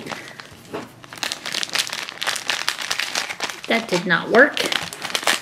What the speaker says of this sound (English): Can't get my package open.